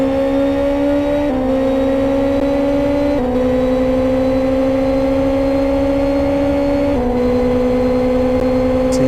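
An onboard racing car's engine drones loud and continuous through a tight chicane at a Kent autoprix, its pitch dipping and rising at a few gear changes, with no voices.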